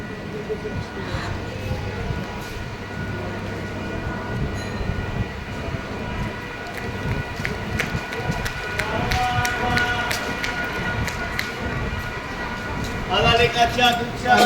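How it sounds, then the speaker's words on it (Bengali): A train waits at a station platform as passengers board, with a rumbling carriage hum, clatter and movement, crowd voices and talk mixed throughout, and a louder burst near the end. "এবার আমি ট্রেনে উঠবো।"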